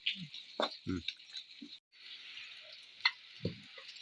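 Masala for a jackfruit seed curry fries in a pan with a steady, soft, close sizzle, broken by scattered faint pops, taps and light stirring knocks.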